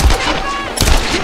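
Gunshots from the Tomb Raider video game: a loud, close burst of two sharp cracks about a second apart, with a voice talking over them.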